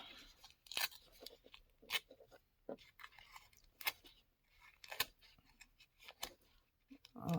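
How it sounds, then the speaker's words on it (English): Paper envelope ripped by hand in small places, a series of short, dry tearing snips spaced irregularly, close and quiet with no talking. "it rips really easy, so you can just kind of take your nail and rip in certain little places"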